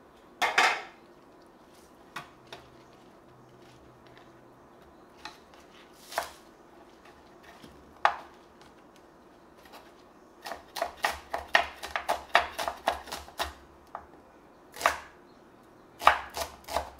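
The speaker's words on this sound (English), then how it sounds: "Go ahead and cut it into small pieces." A knife chops spring onion into small pieces on a board, with sparse single thuds at first, then a quick close run of sharp taps and a few more cuts at the end.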